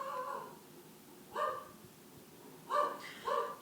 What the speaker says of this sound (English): my dog barks at absolutely nothing